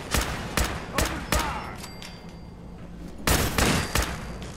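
Galactron robots firing lasers at iBots in Fallout 4: a burst of four sharp, loud zaps in quick succession, a short lull with faint electronic hum, then another cluster of three blasts.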